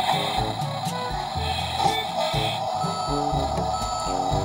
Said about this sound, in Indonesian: Ini suara mobil mundur.